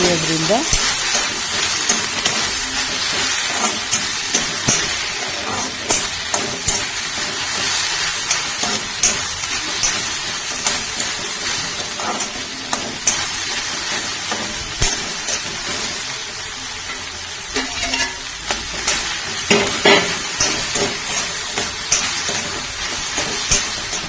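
Okra sizzles and fries in a pan for an okra gravy or palya, with steady hissing broken by frequent scraping stir strokes, close and fairly loud throughout with no talk.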